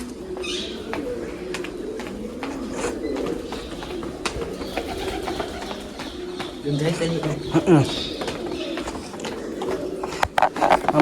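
Pigeons coo softly and repeatedly nearby while people talk, with occasional clicks and rustles, inside Uparkot Fort, in an old-style structure built to house pigeons.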